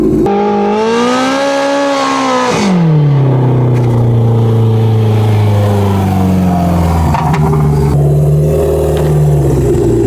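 A 450-horsepower supercharged Polaris Pro R engine revs hard and loud on a run, its pitch sweeping up sharply, then dropping and settling into a steady drone before climbing again near the end.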